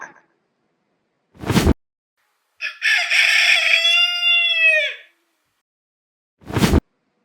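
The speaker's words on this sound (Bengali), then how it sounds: "এটা হলো মোরগ, ইংরেজিতে বলে কক।" A rooster gives one loud, close cock-a-doodle-doo lasting a couple of seconds, framed by short whooshing swipes before and after it against silence.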